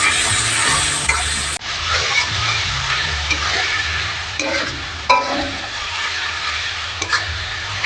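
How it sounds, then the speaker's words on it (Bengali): Spice paste of chilli powder, cumin powder and salt being sautéed for a rohu fish-head kaliya, a loud steady sizzle with occasional scraping stirs and a few sharp clinks, close up and with no talking. "এবার আমি মশলাটাকে কষিয়ে নেব"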